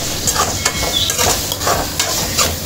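Tomatoes and onions sautéing in a pan for a chicken gravy, with a close, continuous sizzle under repeated spoon stirring and scraping.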